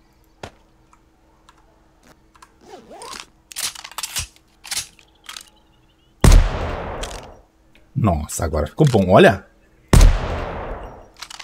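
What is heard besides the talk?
video game rifle gunshots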